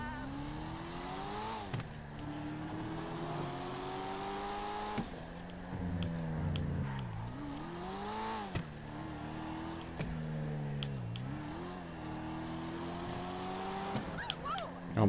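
A Ford Mustang engine in a video game roars and revs repeatedly up to 160, rising and falling through gear changes with a boomy, echoing tone while driving through a tunnel.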